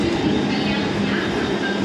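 Commuter train on the Titwala line pulling into a station, a steady loud rumble of wheels and rail noise filling the whole stretch without a break.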